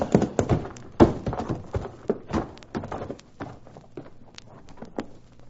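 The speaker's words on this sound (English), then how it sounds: "Come on, let's prod up these horses." Horses pull a wagon in an old-time radio drama, their hooves clip-clopping in a steady, close rhythm of sharp knocks and thuds that gradually softens, with no voices over it.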